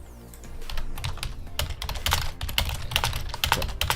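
Computer keyboard typing during a live stream, with a fast, uneven run of close key clicks that grows busier toward the end, heard alone without talk.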